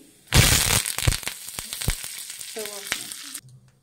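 Curry leaves hit hot oil with mustard seeds for a dal tempering, a sudden loud, close burst of sizzling and spitting that settles into a steady crackle with sharp pops, then cuts off.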